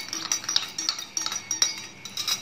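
A spoon stirs soda and salt into water in a glass, giving rapid, light, repeated clinks against the glass, close and fairly faint, with no talk.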